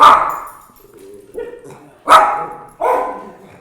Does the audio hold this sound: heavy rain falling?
no